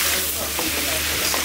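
Elephant apple (chalta) pieces fry in a pan, producing a brief, steady sizzling hiss at close range with no break.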